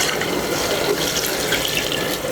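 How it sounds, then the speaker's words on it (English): Water poured into a cooking pot of banga palm fruits in a backyard kitchen for white soup: a steady, close gushing splash that runs unbroken for about two seconds with no voices. "Let me add water."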